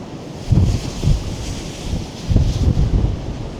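Storm waves on Lake Erie surge and crash in heavy low rolling bursts, mixed with strong wind buffeting the microphone, two bigger swells standing out; no talking.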